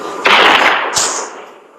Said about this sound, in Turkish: Spiderman niye atış ettin?